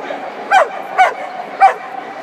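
Dogs bark at a flyball race at a London pet show, three sharp, close barks spaced roughly half a second apart over a quiet background hum.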